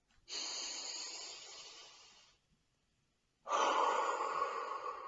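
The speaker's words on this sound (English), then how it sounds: "Deep breath." A deep breath drawn in during a guided relaxation session, followed by a pause and then a full, loud exhale, two broad breathy bursts heard close and alone without talk.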